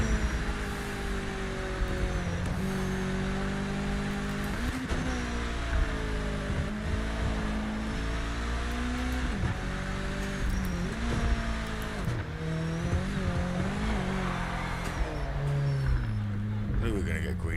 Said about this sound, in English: I do think the car noises are good.